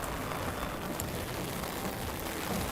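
Heavier rain falls steadily at an outdoor Christmas market in Mannheim, Germany, making a dense, even hiss of drops on surfaces with no pauses and no voices.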